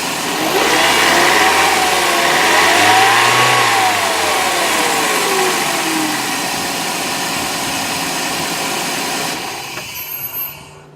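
A repaired Toyota Echo engine revs up and down loudly for several seconds, then settles into a steadier running note before a brief sputter at the end.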